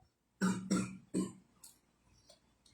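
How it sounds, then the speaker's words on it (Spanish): Three harsh coughs in quick succession from a man with a nagging, persistent cough, loud and close, followed by quieter breathy sounds and silence. "de esta tos necia que en verdad bueno, a veces me hace las cosas cuesta arriba"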